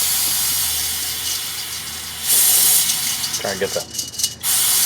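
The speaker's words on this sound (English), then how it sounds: "A little brake cleaner so I can take this." Brake cleaner sprayed on a rear axle part of a 2008 Chevy Suburban, a loud continuous aerosol hiss that starts midway and sputters out, with someone speaking briefly.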